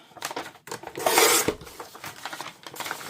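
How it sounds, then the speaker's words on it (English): A piece of faux leather is chopped off, giving close scraping and rasping cuts with a short burst of louder friction in the middle, alone and without talk. "I'm just going to chop this piece off"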